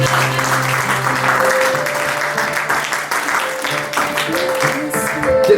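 A church congregation claps and cheers in sustained, dense applause that carries steadily through the room, with a steady musical tone and some voices mixed underneath.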